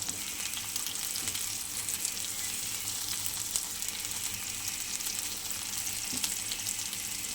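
Water lily stems (shapla) frying in a pan, an even continuous sizzle with faint crackles and an occasional light stir, steady throughout.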